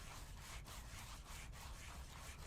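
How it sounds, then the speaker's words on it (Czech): A car part is sanded in the Car Dealer Simulator game, a steady abrasive rubbing with even back-and-forth strokes, alone and moderately faint. "ty 3 minutky to budeš brousit"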